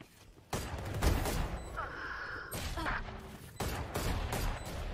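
Valorant gunfire during a bomb-site round, a few sharp shots and a short burst, moderately loud, mixed with game sounds and quiet talk.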